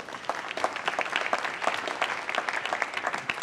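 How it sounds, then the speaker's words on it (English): A conference audience claps together, a dense burst of many hands that stays even and close for a few seconds with no voices over it. "Round of applause for Mike."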